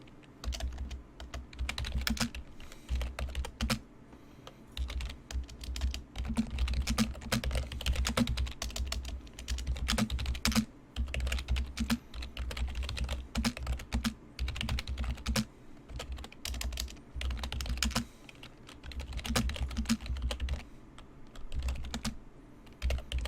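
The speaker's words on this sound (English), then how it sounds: "I'm typing that to you right now" Rapid typing on a computer keyboard during an online Warhammer tabletop RPG session, with close, steady keystroke clatter running continuously and only brief pauses.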